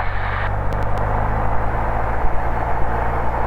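A small propeller airplane engine does a pre-departure run-up at an airport, a loud, constant drone and rumble, with a few faint clicks near the start.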